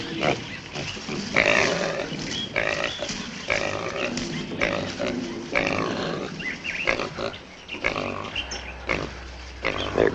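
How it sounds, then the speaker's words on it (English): Wild pigs grunt, snort and squeal in a dense, continuous chorus in a 1950s film scene, close and fairly loud, with a low rumble joining near the end. "Wild pigs. They can be mean."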